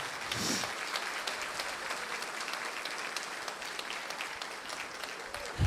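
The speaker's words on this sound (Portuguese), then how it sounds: "Palmas para as crianças que aceitaram a caminhada infanto-juvenil" An audience at a book launch applauds the children of a youth walk, a sustained, fairly even round of clapping filling the whole stretch.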